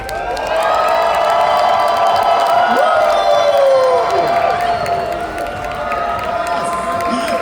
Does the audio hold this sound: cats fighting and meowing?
no